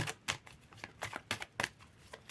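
Tarot cards being shuffled by hand for a reading, a quiet series of short papery riffles and flicks in an uneven rhythm, close and soft with no talking.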